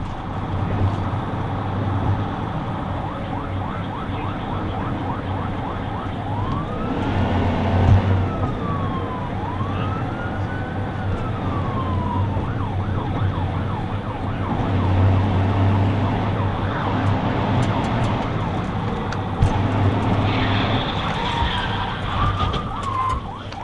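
A police car's wailing siren sweeps up and down during a high-speed pursuit of a fleeing Honda, loud and close over engine and road noise, with yelp passages and no speech.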